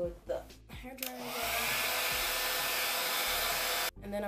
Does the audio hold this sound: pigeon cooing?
no